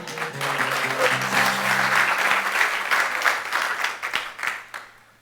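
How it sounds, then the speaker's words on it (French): Audience applause at a French-language management talk, steady dense clapping that fills the room and then thins into scattered claps as it fades, with a few faint voices mixed in. "Merci pour vos applaudissements."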